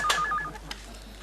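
A telephone is dialed, giving a quick run of short electronic keypad beeps near the start followed by a faint click, heard close in a quiet room with no talking.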